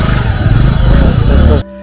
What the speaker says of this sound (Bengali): এখানে অসংখ্য মোটর বাইক রয়েছে।